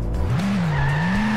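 A car in the video game Turbo Dismount drives with a steady engine drone and a sustained tire squeal as it skids, continuous and prominent with no talk over it.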